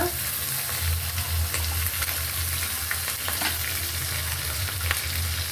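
Spice paste with ginger and onion paste frying in a pan for chicken pulao gives a steady, close, continuous sizzle with occasional stirring clicks, and no voices.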